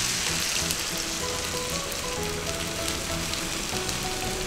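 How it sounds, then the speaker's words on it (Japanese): Soy milk poured into a hot pan of mushrooms sautéed in butter and chicken fat over high heat, a dense steady sizzle and crackle filling the whole stretch, close and continuous. "豆乳を投入します。"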